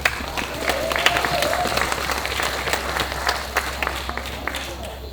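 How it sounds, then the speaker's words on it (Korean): An audience at a mask dance festival gives sustained, moderately loud applause, a dense patter of many hands with a low steady hum beneath, at a heritage charter reading ceremony. "큰 박수 보내주시기 바랍니다."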